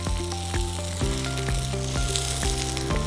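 Vegetables stir-fried in oil for malai pyaz, a strong constant sizzle punctuated by regular metallic clanks of a spatula against the pan, close and busy.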